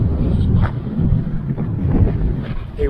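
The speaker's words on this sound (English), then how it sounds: "A windy day." Wind gusting across an open hillside on Mykonos, a loud steady rumble buffeting the microphone in uneven surges.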